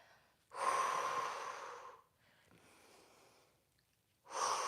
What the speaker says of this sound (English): Breathe in through the nose and out through the mouth. Nice, slow, controlled, measured breaths.